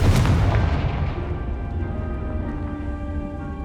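A Confringo blasting spell bursts in Hogwarts Legacy: one loud, booming explosion at the start, then a long rumbling decay that fades into a ringing, tonal tail.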